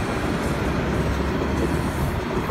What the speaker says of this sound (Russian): Вот метрошка пошла.